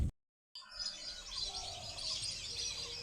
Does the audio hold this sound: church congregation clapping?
no